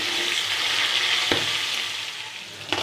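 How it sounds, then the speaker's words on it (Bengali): Pieces of Japani fish marinated in salt and turmeric fry in oil in a pan, giving a dense, steady, close sizzle with a couple of brief sharp spatters or stirring knocks. "এখানে লবণ হলুদ দিয়ে মেখে রাখা জাপানি মাছের পিসগুলো ভেজে নিচ্ছি"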